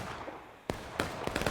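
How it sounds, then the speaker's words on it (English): Musket gunfire in a Civil War battle video game, several sharp distant-sounding shots cracking out one after another after a quiet start, no voices. "Are these two Confederates shooting at each other?"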